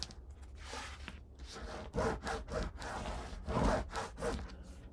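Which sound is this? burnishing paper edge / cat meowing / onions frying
burnishing paper edge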